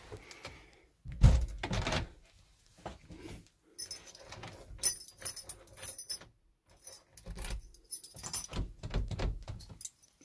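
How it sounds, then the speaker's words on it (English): A PVC door with a Eurocell-type cylinder barrel lock is pushed shut and locked with a key, giving a few close clunks, clicks and rattling key jangles spread over several seconds, with no talk. "So shut the door."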